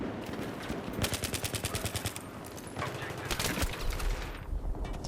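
UMP submachine gun fire in Battlefield 3, rapid automatic bursts of evenly spaced shots, two or three strings separated by short pauses, moderately loud amid game background noise.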